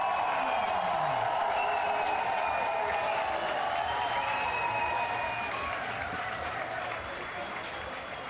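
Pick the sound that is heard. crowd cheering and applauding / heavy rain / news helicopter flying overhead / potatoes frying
crowd cheering and applauding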